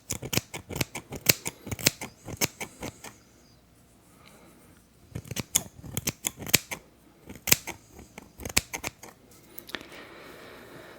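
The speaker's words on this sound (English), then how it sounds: "they still need to trim the split ends" Scissors trim split ends of hair in an ASMR roleplay, producing crisp close-up snipping in quick clustered runs separated by brief quiet pauses.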